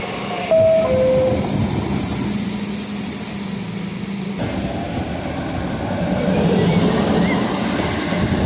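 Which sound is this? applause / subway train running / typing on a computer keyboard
subway train running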